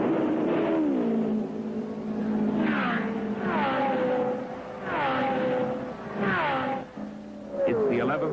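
Race cars at the 1975 Indianapolis 500 scream past in a series of passes, each engine whine rising and then sweeping down in pitch as it goes by, loud and close.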